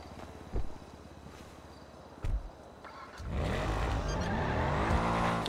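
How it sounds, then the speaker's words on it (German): A few soft thumps give way to a steady engine drone with rising and falling tones, a car revving and driving in GTA roleplay. "Auto ist zu laut, oder?"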